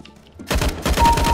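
Quick rattling bursts of video-game gunfire in a deathmatch at TGS 2019, starting after a quiet moment and continuing as a steady, close, rapid volley.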